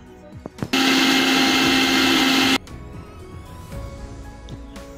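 A kitchen mixer grinder blends lemon juice with mint, sugar and water, starting abruptly and running as a loud steady whir for about two seconds before cutting off, with quieter kitchen clatter before and after.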